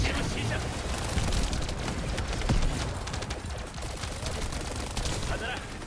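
Sustained gunfire from a shooter game, The First Descendant, played on PC, rumbling steadily and fairly loud through the whole stretch with dense bursts of shots, while a voice talks over it now and then.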